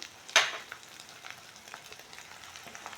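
Garlic and coriander paste sautéing in oil for a dhaba-style paneer masala makes a faint, crackly sizzle, with one sharp clatter near the start and soft stirring scrapes after it.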